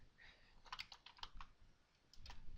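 Quiet keystrokes on a computer keyboard enter text into a spreadsheet cell, coming as a quick burst of clicks, then a pause and a few more taps.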